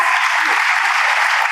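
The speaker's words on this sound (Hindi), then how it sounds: "एक बार आप अपने लिए तालियां बजाइए।" An audience at a motivational talk for board-exam students claps together, a dense, even burst of applause filling the short moment.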